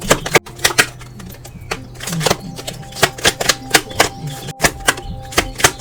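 Tarot cards are drawn and shuffled close up, producing a dense run of crisp flicks, slaps and taps in quick irregular bursts, with no voice over them.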